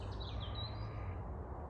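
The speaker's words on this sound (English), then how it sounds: "on the bird song around me" Birds chirp and tweet faintly outdoors in the distance over a soft, steady background hush, with a few thin, high calls near the start and no talking.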